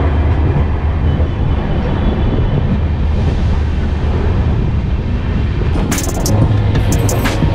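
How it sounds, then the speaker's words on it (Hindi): Train at Dibrugarh railway station in Assam: a steady, loud rumble with wind buffeting the microphone throughout, and brief sharp metallic squeals or clanks near the end. "यही एक असम का खूबसूरत सा एक डिब्रूगढ़ स्टेशन, और मैक्सिमम ट्रेनें इधर पे जो है यहाँ से ओरिजिनेट होती है"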